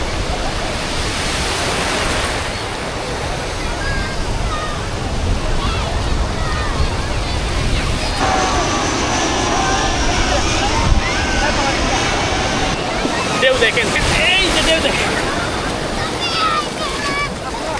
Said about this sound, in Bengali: আপনাদেরকে একটু ঢেউর আওয়াজগুলো একটু শুনি